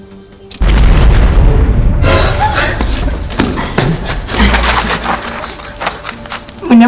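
A big booming explosion effect hits suddenly and rolls on with rumbling debris and crackling aftershocks during a Nerf battle film, loud and close, with brief voices near the end.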